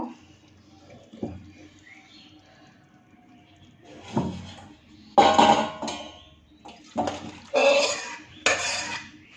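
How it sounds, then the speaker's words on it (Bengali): Cooked curry poured out of a pot, a run of loud metallic clinks and scrapes of utensils against the pot in uneven bursts, with quiet gaps between. "তরকারিটা আমি এখন ঢেলে নেব"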